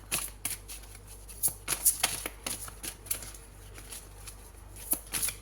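Large tarot cards being shuffled and drawn: a run of crisp, irregular papery flicks and slaps, close and fairly quiet, with a few louder riffling bursts.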